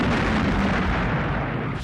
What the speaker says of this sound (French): l'avion a explosé